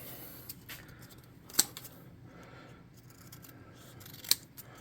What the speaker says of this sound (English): You can cut some straps of metal to go on there.